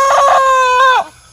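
A pet farm chicken gives a single loud, close crow, a sustained harmonic call that holds for about a second and then drops off sharply, with nothing else audible around it.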